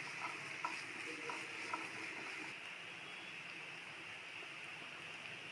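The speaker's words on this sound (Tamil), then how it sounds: "இப்போ வெங்காயம் நல்லா வதங்கிருச்சு." Chopped onions with salt sizzle softly in a pan, a faint steady hiss with a few light stirring taps early on.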